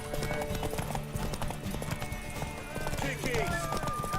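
Horse hooves clip-clop at a fast, steady gallop during a horse race in the video game The Witcher 3, mixed with game music and ambience while characters talk over it.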